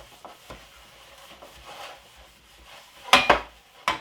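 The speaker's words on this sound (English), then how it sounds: "I'm just gonna grease my pan. Just like this. Just rub a little bit of grease inside of" A cake pan for carrot cake being greased by hand, giving soft rubbing and scraping sounds with a few louder clinks of metal near the end, close and alone.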